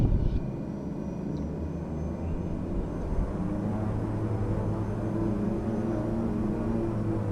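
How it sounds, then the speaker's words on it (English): Twin turboprop engines of a King Air 350i in a flight simulator drone steadily, a loud, even hum with layered tones that holds constant throughout, with no talking. "Actually, the engines sound good."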